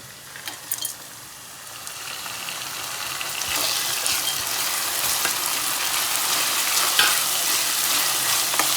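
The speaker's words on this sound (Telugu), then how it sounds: "మంచిగా అల్లము వేగింది" Ginger with cinnamon, cloves and cardamom frying in oil for mutton liver curry, with a few utensil clicks at first and then a loud, steady sizzle broken by scraping stirs.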